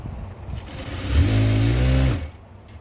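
A sewing machine stitches the inside of a petticoat with a half-inch allowance, a loud close motor hum swelling for about a second over ongoing handling noise, then winding down.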